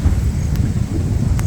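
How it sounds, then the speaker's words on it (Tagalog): Strong mountain wind in the hills of rural Taysan, Batangas rumbles against the microphone as a loud, steady low-pitched roar, with a couple of faint brief clicks. "Kasi medyo malakas yung hangin mga kapanalig."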